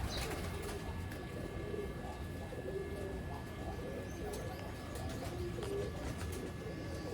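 Soft, repeated pigeon cooing close by while the bird is handled for feather plucking, low and throaty, with faint rustling and background hum.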